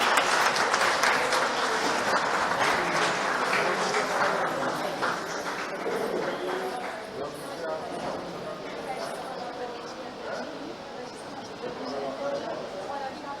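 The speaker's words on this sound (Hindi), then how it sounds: "तालियां बजा दीजिए सर।" An audience at a police and social leader excellence award ceremony claps for a social work honoree, the applause strongest early then thinning into scattered claps while a voice talks over it.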